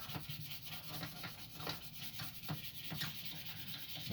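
Sandpaper, 240 grit, is rubbed by hand over the wooden handle of a knife in repeated back-and-forth strokes. The rasping is soft and rhythmic, with no voices.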